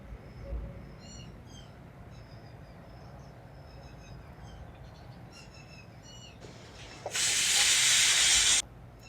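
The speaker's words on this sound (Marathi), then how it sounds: "चला आता आपण कुकरच्या 3 शिट्या काढून घेणार आहोत." A pressure cooker holding sweet wheat porridge gives off a loud, steady hiss of escaping steam for about a second and a half near the end, after a quieter stretch of faint kitchen noise.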